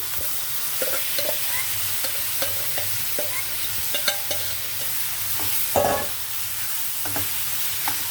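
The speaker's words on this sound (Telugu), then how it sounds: "ఇదిలాగా తాలింపులో వేగనివ్వాలి" Chana dal fries and is stirred in a hot tempering for a cabbage curry, with a continuous sizzle and repeated close spatula scrapes and knocks against the pan, no one speaking.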